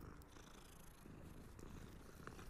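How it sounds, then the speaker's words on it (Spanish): A cat in Hogwarts Legacy purrs while being petted, a soft, continuous low rumble heard close and quiet with no talking. "Mira, un gato. A los Michi los podemos acariciar"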